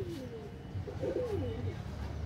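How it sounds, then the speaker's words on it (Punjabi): Pigeons cooing softly close by, a few low warbling coos over a quiet background rumble. "ਮੈਂ ਤਾਂ ਪਹਿਲਾਂ ਤੁਹਾਨੂੰ ਕਬੂਤਰ ਦਿਖਾ ਦਾਂ।"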